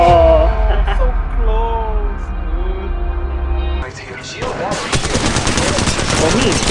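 Rapid gunfire in the mobile shooter Apex Legends Mobile, bursts of shots with game music and effects, loud and close, mixed with a player's excited talking.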